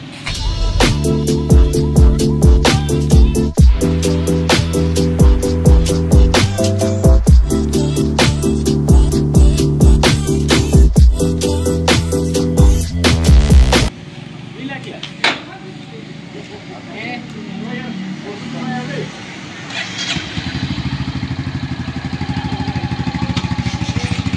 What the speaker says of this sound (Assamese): বাইকখনৰ চাউণ্ডটো কিমান ধুনীয়া, মই আপোনালোকক শুনাই আছোঁ, শুনক